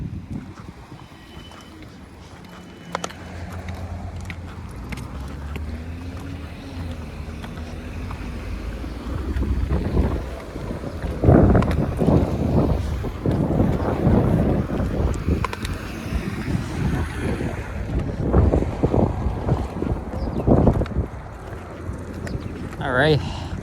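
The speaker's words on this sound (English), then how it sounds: "now the wind's kind of picking up again" Wind gusts across the microphone during a walk along a residential street in Toronto's Forest Hill and Deer Park area, a low rumbling buffet that swells louder and rougher partway through, with faint background noise.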